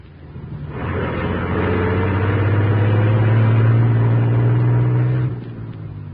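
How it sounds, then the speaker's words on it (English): Large truck rumbling out of an alley in an old radio drama: a steady low engine drone swells in, holds loud and close for several seconds, then drops away. "As the huge truck rumbled out from the alley"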